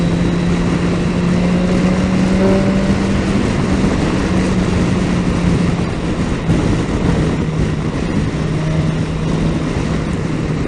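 A 2018 BMW S 1000 XR motorcycle engine pulls steadily in fifth gear under riding wind noise, a continuous loud drone with a rising tonal whine across the run.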